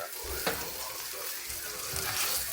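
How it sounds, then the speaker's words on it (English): Sausage and eggs frying in a pan, a steady, fairly faint sizzle with a brief clink near the start and occasional low bumps underneath. "I'm just cooking up a little sausage and eggs here for a little late night"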